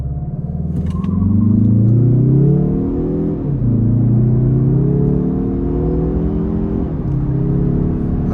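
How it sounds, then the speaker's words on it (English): A 2022 Mazda 3 Turbo Premium Plus sedan in sport mode accelerates hard. Its engine drone climbs in pitch through two or three upshifts, with brief dips between gears. The sound is loud, close and steady, with no talking. "Pop it into sport mode to get a little acceleration test over here for you guys."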